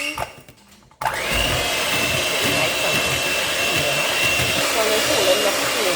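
An electric mixer whirs into dragonfruit cheesecake batter, starting abruptly after a second of quieter sound and then holding a loud, steady motor drone close by.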